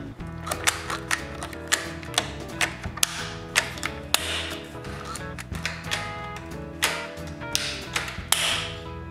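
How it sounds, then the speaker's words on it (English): Wooden plugs are driven into place with a clamp while building coat racks, giving a run of sharp, close taps and ratcheting clicks at irregular intervals, with no talk. "For most of them, I use a clamp to drive them."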